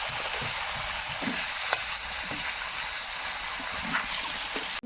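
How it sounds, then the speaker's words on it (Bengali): Drumstick pieces frying lightly in oil left over from frying fish: a continuous close sizzle with occasional soft stirring clicks and scrapes, ending with an abrupt cut. "মাছ ভাজার তেলে কিছু সজিনাটা নিয়েছি ভেজে নেব"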